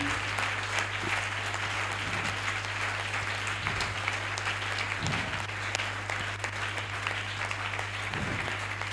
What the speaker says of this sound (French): Acclame très fort pour cette onction-là